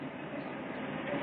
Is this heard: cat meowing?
no